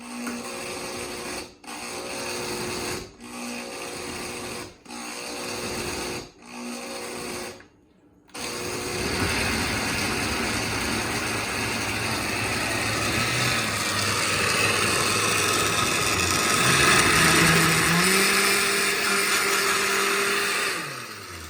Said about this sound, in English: so we are just going to throw this in our blender and make it into a very nice smooth sauce